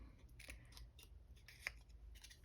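Paper snips cut through card-making paper for a small banner in a series of crisp, close snipping strokes with a sharp click near the end, no voices over them.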